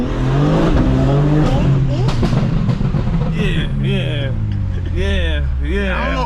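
A tuned stage 2, 700 hp BMW M4 G82 rumbles loudly while driving, its exhaust burbling and popping with revving pitch swings, heard from inside the car.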